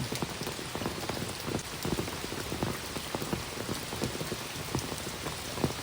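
Heavy monsoon rain patters continuously, with dense drops hitting a surface close by and a constant hiss underneath, no voices.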